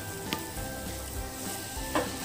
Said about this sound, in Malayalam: ഇതിങ്ങനെ ഇളക്കി ഇളക്കിയിട്ട് വേവിക്കണം